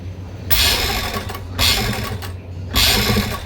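An electric sewing machine stitches the shoulder seam of an Angrakha neckline in three short, close bursts of fast whirring, with brief pauses between runs.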